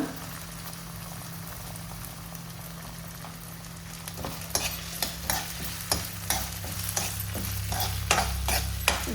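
Carrots, beans and potato fry in hot oil in a pan for veg cheese Maggi, a steady close sizzle with a spatula scraping and stirring in repeated knocks that grow busier toward the end.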